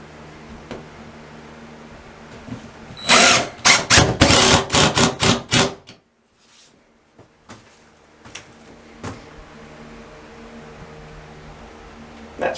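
A power drill drives screws into a bathroom wall panel in a mobile home, giving a loud close run of rapid bursts and pulses that stops abruptly, followed by quieter scattered clicks and handling noises.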